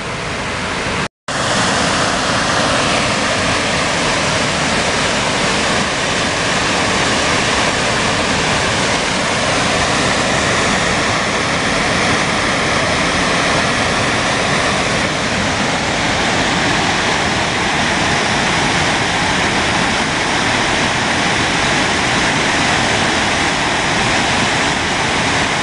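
Rushing water of the Great Miami River roars steadily and loudly for the whole stretch, a dense broadband wash beside a bike trail with no talking.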